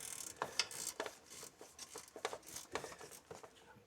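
A gear wrench ratchets on an alternator bolt of a 1995 Toyota Celica ST 1.8, quiet irregular clicks and pawl chatter in short bursts, close but faint.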